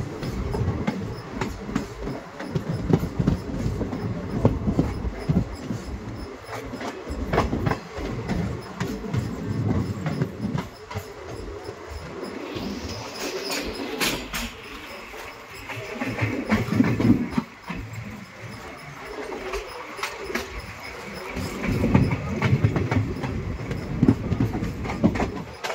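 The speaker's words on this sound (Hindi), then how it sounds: "इस ट्रेन का, बहुत ज़बरदस्त एक्सेलरेशन आ रहा है" An electric train on the Jalna–Partur line accelerates along the rails, with a loud, steady rolling roar and rhythmic clickety-clack of wheels over rail joints that continues for the whole stretch, with no voices.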